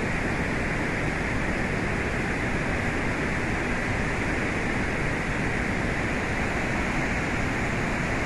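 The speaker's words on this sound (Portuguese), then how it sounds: "Linda cachoeira, hein?" Waterfall near the town of Tombos in Minas Gerais, Brazil, feeding a channel and pipes to a hydroelectric plant below, heard as a constant, dense roar of falling water, steady and unbroken throughout.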